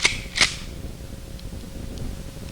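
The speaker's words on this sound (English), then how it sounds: "Let's try the old reliable 30-30 lever action rifle." Two sharp gunshots from a 30-30 lever action rifle, the first at the very start and a second close behind, each a loud crack with a brief decay, followed by a low steady background.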